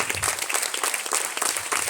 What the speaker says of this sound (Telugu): అబ్బాయి ఈ చప్పట్లో నాకు ఎందుకో నచ్చలేదురా